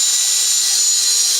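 A cordless drill, clutch turned up to setting 2, drives a screw into sheetrock with a loud, steady high whir that runs unbroken through the moment, with no talking.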